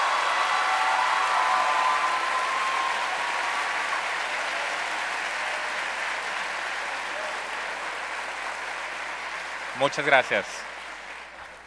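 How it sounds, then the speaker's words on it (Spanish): A crowd at a university candidates' forum applauds a candidate with loud, sustained clapping that slowly fades over several seconds, then a voice speaks briefly near the end. "Un fuerte aplauso para el candidato una vez más,"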